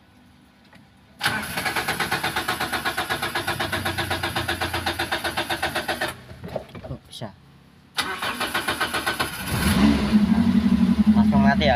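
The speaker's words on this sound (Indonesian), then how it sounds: "Hidupkan mesin mobil BBG di pagi hari" A Suzuki Ertiga Espass car running on gas (CNG) cranks and fires up, then settles into a steady engine run with a pause and a second start; someone talks over it.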